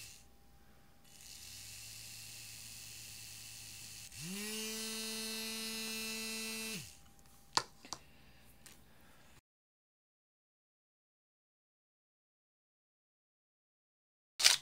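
Small DC motor driven by an Arduino L298P motor shield, a faint buzz giving way to a louder whirring hum with a rising then steady pitch for a few seconds, then stopping, followed by a few clicks and silence.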